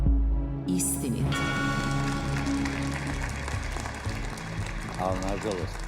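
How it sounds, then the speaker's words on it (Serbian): Studio audience on a truth-telling TV game show clapping steadily, a broad crackle of many hands that keeps going under a speaking voice. "I ovo je bio aplauz za iskrenost"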